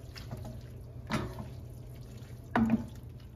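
A pot of water holding spaghetti and green beans is stirred, giving a few soft, close sloshing swirls separated by quiet pauses.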